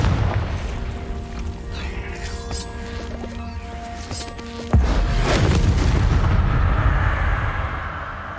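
A Confringo blasting spell explosion in the Hogwarts Legacy video game, a sudden heavy boom mid-scene followed by a rumbling tail that slowly fades, over ambient cave sound.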